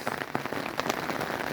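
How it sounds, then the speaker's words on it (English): Heavy rain pelts a surface in a dense, continuous patter of close droplets, loud and steady with no voices. "It's pissing rain if you can't hear it."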